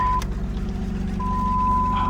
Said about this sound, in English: Beeping, theft deterrent.